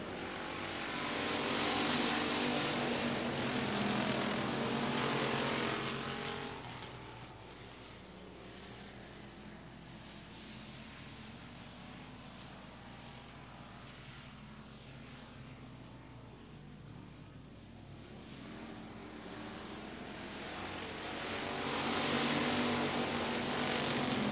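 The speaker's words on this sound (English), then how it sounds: "as they rev up the engines one more time" Speedway race cars at I-37 Speedway thunder around the track on championship night, engines swelling loud as they pass, dipping to a distant drone, then surging again near the end.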